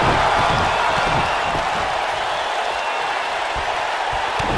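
Capacity crowd in a WWE 2K19 video game arena during a tag team match, a dense steady roar of cheering that fills the whole clip, loud and continuous with no clear voices on top.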